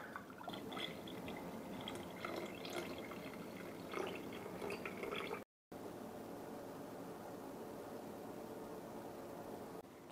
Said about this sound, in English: Just take your funnel along with your hot sauce. Quick stir is all that you need. And then start filling up the bottles.